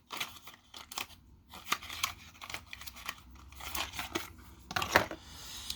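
Colour Pop Barbie makeup packaging being opened, close crinkling, tearing and snipping of wrapper material in irregular bursts, fairly quiet and without talk.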